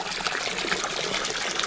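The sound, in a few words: water pouring into a bath, conjured by water magic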